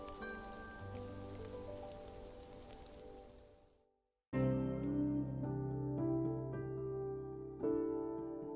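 Rain falls in the Love and Deepspace video game as a steady soft hiss, mixed with sustained tonal music that fades out, pauses briefly, then returns loudly.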